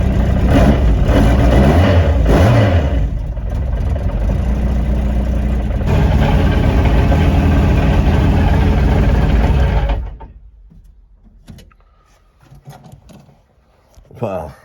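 Ford Escort rally car being prepared for the Jersey rally, its engine running loud and steady for about ten seconds before cutting off, leaving faint sounds, with people talking over it.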